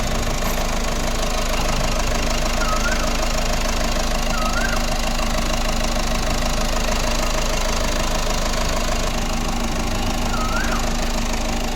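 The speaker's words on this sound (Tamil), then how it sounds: "இன்ஜினோட சவுண்டையும் அப்படியே லைவாக கேளுங்க." A Ford EcoSport engine idling with the bonnet open, a steady, even hum and light rhythmic clatter that runs unchanged throughout, heard close up with no voices.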